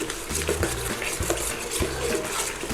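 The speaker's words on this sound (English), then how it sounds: "Now we get this in now and stir it in and start to cook it a little bit." A spoon scrapes and knocks rhythmically through turkey chili in a pan as tomato puree is stirred in, repeated close wet strokes with soft clinks and a faint sizzle beneath, no talk.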